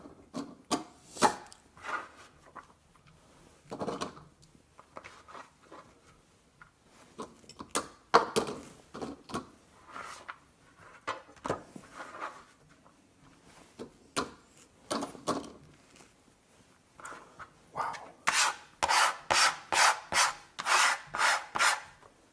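Horseradish root scraped over a grater while making fire cider: close, dry, rasping strokes that start out irregular and settle into a fast, steady back-and-forth rhythm near the end, with no voices.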